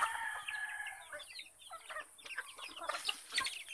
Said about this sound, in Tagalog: Matatawa itong mga manok ko.